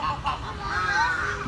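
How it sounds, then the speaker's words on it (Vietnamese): Goose honking at a zoo or animal show, a few nasal calls overlapping with steady crowd noise and a child's and adult's voices talking nearby. "đây là con gì? Con ngỗng."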